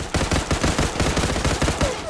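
CX4 gunfire in the shooter video game Zula, a rapid string of evenly spaced, punchy shots fired in quick succession, loud and close, with no talking.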